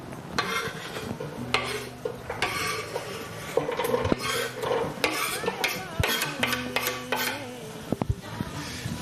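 Onions cook in oil in a cooking pot while a utensil stirs them, scraping and clinking against the metal in irregular strokes over a soft, steady sizzle.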